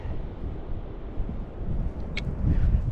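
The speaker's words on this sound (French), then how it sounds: "Le vent s'est renforcé" Steady low rumbling wind buffeting outdoors on a hiking trail around the Bious-Artigues lake, a continuous broadband roar that swells slightly louder toward the end, with no talking.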